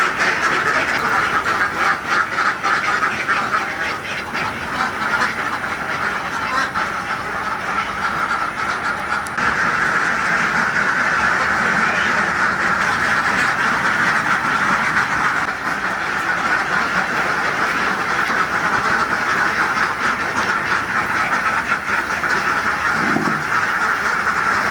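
Mojosari ducks on an Indonesian duck farm, a dense continuous chorus of many quacking birds, loud and close, sustained without pause and with no talking.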